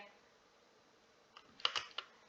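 Rapid bursts of computer keyboard typing while playing Stumble Guys, a few quick clustered key clicks toward the end after a quiet stretch, fairly close and moderately loud.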